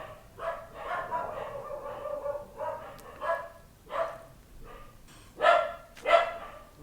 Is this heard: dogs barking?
yes